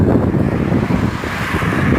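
Steady wind rumbles and buffets a nearby microphone, a continuous low roar with no voices.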